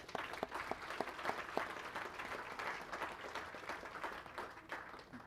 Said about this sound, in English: So a round of applause to everybody here.